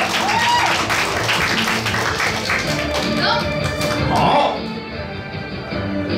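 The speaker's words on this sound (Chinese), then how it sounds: "掌声掌声掌声掌声掌声" Applause from a primary school audience after a children's martial arts performance at a Christmas year-end show, steady clapping under a loud announcer's voice that keeps talking through it.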